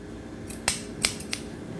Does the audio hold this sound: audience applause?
no